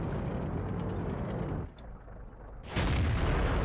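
Tank cannon firing in a T-34 tank video game: a loud, broad blast at the start, then a brief drop, then a second heavy boom rumbling on at the end, with no voices.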